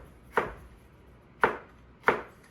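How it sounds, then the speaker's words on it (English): A knife chops through hot peppers on a cutting board for homemade salsa, three distinct sharp thuds spaced about a second apart, close and crisp against a quiet room. "So we're gonna cut these in, I don't know, maybe like a julienne"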